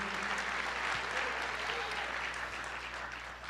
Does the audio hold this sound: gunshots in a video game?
no